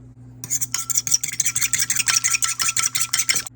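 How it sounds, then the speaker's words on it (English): Fork or whisk beating an egg in a bowl, rapid rhythmic clinking strokes at a fast steady pace, close and crisp, with no talking. "I'm going to take this egg and I'm going to get it whipped up"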